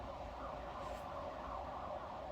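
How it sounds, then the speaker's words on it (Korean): A police car siren wails steadily in the distance outside on a rainy day, faint and continuous beneath a low background hum. "저기 경찰차 소리가 녹음이 될 것 같은데"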